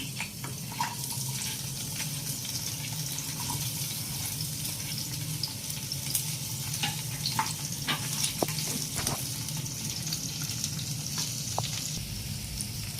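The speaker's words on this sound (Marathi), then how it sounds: "ही तेल तापलं आहे याच कडे मी कांदे भाजून घेते थोडे" Onions fry in hot oil in a home kitchen for Kolhapuri misal, a steady close sizzle with scattered sharp pops and clicks from stirring, running continuously with no speech.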